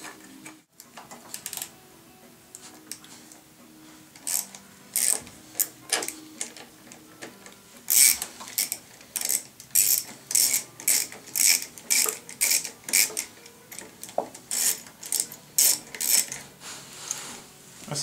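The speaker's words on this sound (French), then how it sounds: "maintenant je vais démonter le carburateur" Metal parts are worked while a Bernard BM4 engine's carburettor is dismantled, with a quiet start giving way to a run of sharp rhythmic ratcheting clicks, close and fairly loud, from about eight seconds on.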